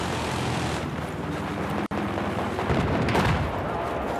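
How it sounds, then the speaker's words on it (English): Helicopter gunfire strafing players in Battlefield 4, a dense, loud roar of continuous shooting and explosive rumble that fills the whole clip, broken by one abrupt split-second dropout near the middle. "Fucking helicopter's trying to shoot us out."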